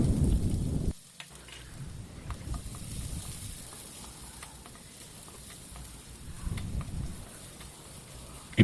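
Garlic and onion sizzle in hot oil in a pan, a steady moderate frying hiss with occasional stirring scrapes, preceded by a brief louder burst and ending with a sharp clink.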